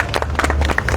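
Loud applause and clapping from a crowd at a political rally, dense and continuous across the whole short moment.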